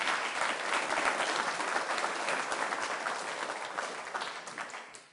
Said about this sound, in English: it's nice to hear that applause at the end of the evening here